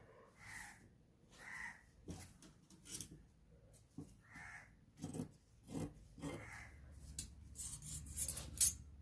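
Scissors cut through fabric for a churidar-style nightie and its sleeve: a series of crisp, close snipping and rustling strokes, irregular at first and then quicker and louder toward the end, with no talking.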